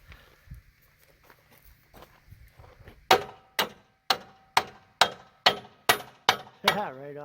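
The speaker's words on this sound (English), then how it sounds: "Use your hammer, Sean." A hammer strikes metal plow parts during a repair, landing about nine sharp, ringing blows in a steady rhythm after a few seconds of quieter shuffling and handling noise.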